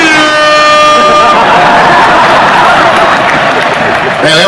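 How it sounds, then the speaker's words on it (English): A loud air horn blast with stacked steady tones opens over a roaring crowd at a stand-up comedy show, then cuts off as crowd noise and cheering carry on. "that air horn pushed me over the top"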